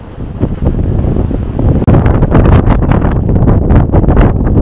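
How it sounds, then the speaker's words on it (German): Strong storm wind buffets the microphone in a garden between a raised bed and raspberry canes in February, a loud continuous roaring rumble with gusts that swell and intensify partway through. "Hier im Garten zwischen Hochbeet 2 und den Himbeeren, da pfeift der Wind richtig aggressiv."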